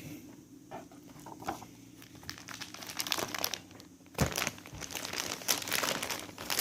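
A plastic bag packed with about ten books crinkles and rustles continuously as it is handled up close, with a louder crunch partway through.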